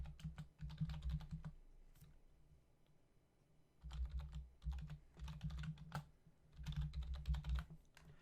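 Checkout details being typed on a computer keyboard, steady bursts of quick key clicks with a short pause in the middle, close and quiet, no voices.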